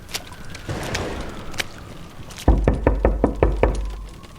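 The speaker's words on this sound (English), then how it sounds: "The gate banged loudly." A gate bangs shut with a loud knock, followed by a quick series of sharp, evenly spaced knocking thuds close by against a faint background.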